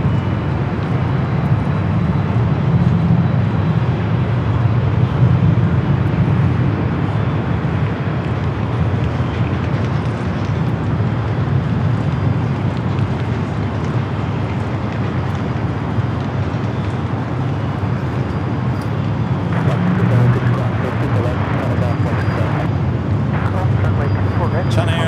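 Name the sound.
Boeing 777 airliner flying overhead toward LAX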